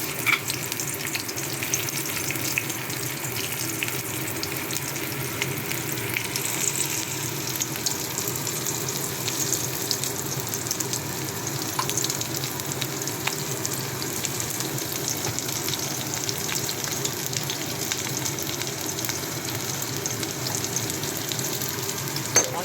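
Onions frying in hot oil just after tempering spices, for a tilapia mustard curry: a loud, continuous close-up hiss and crackle that holds steady, with faint water-like splashes in the background.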